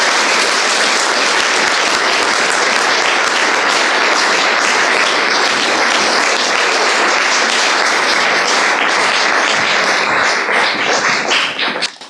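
Sustained, dense applause from a ceremony audience fills the whole stretch evenly and loudly, a continuous wash of many hands clapping that tapers off only at the very end.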